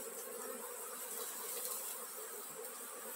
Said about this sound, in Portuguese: Vou pôr as abelhas pra dentro.